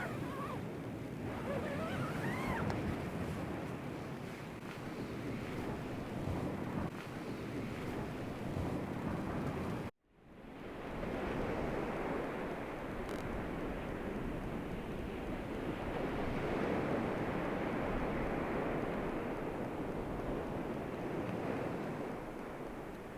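Sea surf washes steadily on a beach at night, a continuous close rushing roar mixed with gusting wind buffeting the microphone, broken by a brief drop to near silence partway through.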